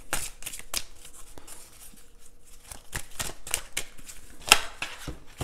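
Oracle cards being handled and shuffled to draw a single card, a close, papery riffling and flicking with a sharp snap near the end.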